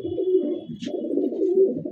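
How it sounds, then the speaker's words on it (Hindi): A small Madrasi pigeon coos in low, rolling, throaty pulses that run almost continuously at close range, with one short high squeak partway through. "ये देखो बिल्कुल छोटा सा कबूतर है लेकिन लाजवाब"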